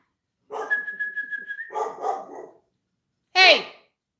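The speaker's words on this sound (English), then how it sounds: "what are you barking at?" A dog gives a quick series of barks close by, mixed with a thin whistle-like whine, then falls quiet before one last sharp yelp or bark.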